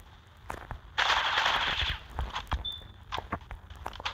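Gunfire in the mobile shooter game C-OPS, a sharp close burst of rapid automatic fire lasting about a second, followed by scattered footsteps and small clicks.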